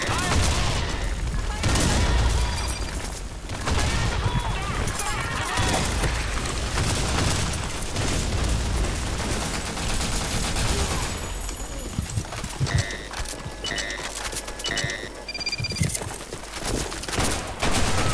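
Bomb explosions and rapid gunfire in a shooter video game, dense continuous bursts of shots and booms with loud blasts throughout.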